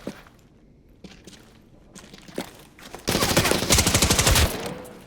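Video game shooter gunfire: scattered single shots at first, then a dense, loud burst of rapid automatic fire lasting over a second before it trails off.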